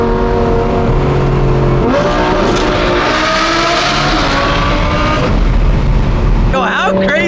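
Two straight-piped Audi R8 sports cars rev and roar together, a loud, continuous, raspy exhaust blare with rising and falling engine pitch throughout, ending in a sharp rev burst.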